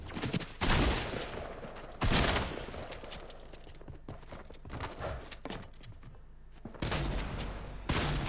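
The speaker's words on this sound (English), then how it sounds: "Now it's a double heavy shotgun." Heavy shotgun blasts in Fortnite OG Chapter 1 Season 5, loud booming shots at irregular intervals, roughly four or five, with quieter game noise and scattered footsteps between them.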